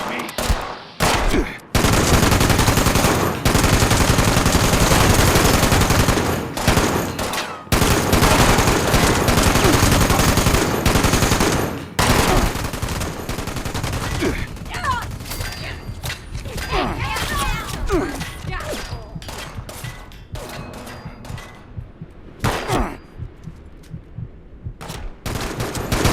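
Sustained machine gun fire in Fallout 76 rattles loud and close in long continuous bursts, then thins into scattered shots and short volleys with gaps of near silence toward the end.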